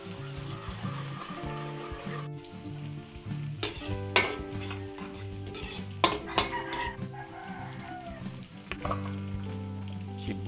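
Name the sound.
sautéing garlic in a pan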